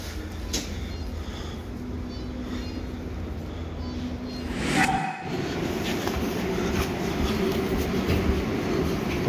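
Riding aboard a tram in Bern, a steady rumbling roll of wheels on rails carries through the car, with a brief louder clunk midway and continuing on-board hum, no talk.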